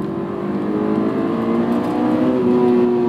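A Honda S2000 AP1 sports car engine revving under acceleration, a steady rising mechanical drone with climbing tonal pitch, loud and continuous with no talk.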